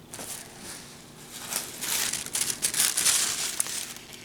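Fabric for a pink dress being handled and pieced together, close crinkly rustling and crumpling swelling louder toward the middle, with no talking.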